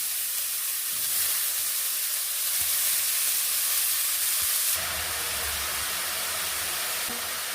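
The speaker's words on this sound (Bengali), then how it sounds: "বাদাম কপিটা আমি ভেজে দিচ্ছি" Cabbage frying in hot oil with dried red chillies and whole cumin, giving a steady, loud sizzling hiss that shifts in tone partway through, with no talking.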